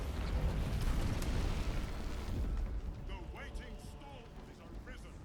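Bombs packed together in a box go off in Baldur's Gate 3, a loud, dense rumbling blast that fills the first few seconds and then thins into a fading, crackling tail with faint tonal game sounds.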